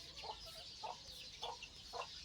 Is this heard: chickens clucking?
yes